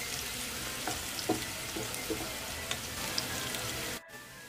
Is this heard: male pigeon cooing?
no